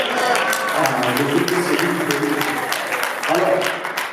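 An evangelical meeting congregation acclaims and applauds the Lord, steady clapping and raised voices filling the room throughout.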